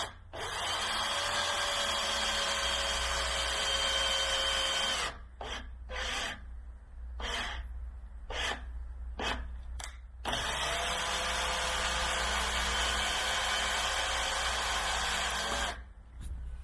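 A thread-rolling tool cutting threads onto a bicycle wheel spoke on a second pass, a steady mechanical whirring grind with a faint whine, broken by several short stops and restarts before running on again.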